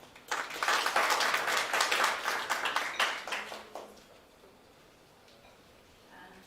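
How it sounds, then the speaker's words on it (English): Conference audience breaks into moderate applause that swells quickly, holds for a few seconds, then dies away into a quiet hall with a few stray claps. "a big round of applause for Dr. Viola Nyakato"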